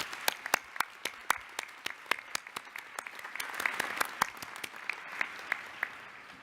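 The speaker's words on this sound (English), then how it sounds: "Class of 2018, please join me in applauding these invaluable supporters who surround you today." Law school graduation convocation crowd applauding the graduates' supporters, sharp individual claps standing out over a building wash of hands, growing fuller toward the middle before thinning out.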